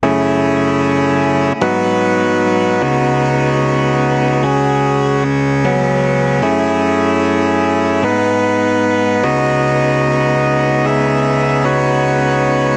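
Lo-fi hip-hop beat carried by clean keys over a sustained ambient pad, with long held chords that change every second or so, steady and full, with no talking.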